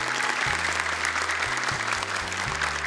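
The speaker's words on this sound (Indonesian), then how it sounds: "Tepuk tangan dong, semangat untuk mereka." Studio audience clapping for child contestants on a Quran memorization show, a short burst of applause over steady low music.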